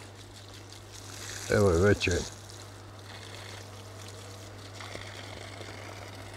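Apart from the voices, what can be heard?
well pump delivering cold water from 8.5 m depth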